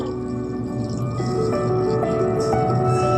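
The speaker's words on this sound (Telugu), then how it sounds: "పక్కకు పెట్టుకునే బోండిలోకి ఈ పాకం పోసుకోవాలి" Sugar syrup poured onto a boondi mixture for homemade boondi laddu gives a steady, close, continuous liquid pouring and dripping sound, with faint squishy wet textures and no talking.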